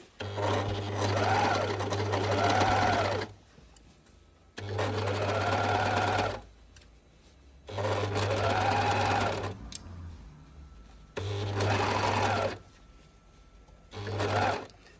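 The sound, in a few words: serger overlock machine sewing an invisible stitch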